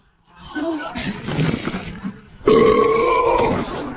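A long, loud cartoon burp in an animated comic drama, a vocal belch from a contestant aimed at a giant testing stone, rising in two strong bursts with a resonant, tonal rumble.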